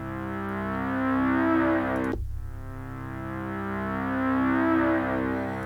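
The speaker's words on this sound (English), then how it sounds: "You can really hear that oscillator sync ripping through the reverb." A buzzy, harmonically rich synthesizer oscillator-sync tone swells and sustains, cut by a sharp break midway, then returns with a washy reverb tail.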